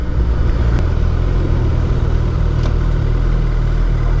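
A motorcycle rides through a woodland curve, its engine a loud, steady drone with low throbbing tones that hold constant throughout, and no one speaks.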